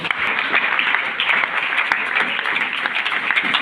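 Applause fills a church congregation after a sermon's closing amen, a dense steady wash of clapping that holds at an even loudness for several seconds with no voices on top.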